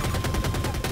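Rapid, continuous automatic cannon fire from an Apache attack helicopter in Battlefield 2042 hammers out a loud, dense burst of evenly spaced shots, with no talk over it.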